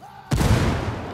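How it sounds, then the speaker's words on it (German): A single loud grenade explosion in Ghost Recon Wildlands, a sudden heavy boom that rolls out into a long decaying rumble, with no talking. "Granate fliegt."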